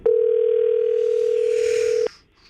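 A telephone dial tone sounds while a call is placed to a tip line, a loud, pure, steady tone holding for about two seconds and then cutting off abruptly.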